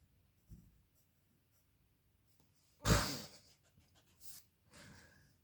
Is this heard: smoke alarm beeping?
no